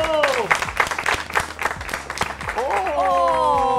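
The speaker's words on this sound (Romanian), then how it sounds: "aplauze pentru Alexia Ioana Vasilescu!" Audience applause at the DreamStar Junior Music Contest greets seven-year-old contestant Alexia Ioana Vasilescu, dense clapping mixed with music and crowd noise that fades as a tonal sound rises near the end.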